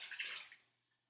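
Two cups of water poured into an Instant Pot for oatmeal, a close splashing rush that is loudest at the start and fades away within about a second.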